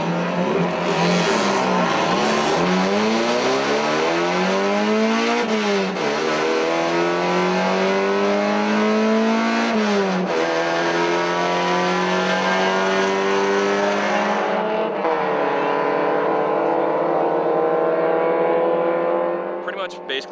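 Mazda Spec Racer race car with about 120 horsepower, driving on a track, its engine revving loudly and continuously through rising pitch sweeps and gear changes, close and dominant, fading slightly near the end.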